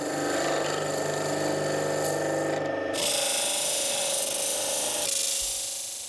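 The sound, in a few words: amber being scraped while turning on a lathe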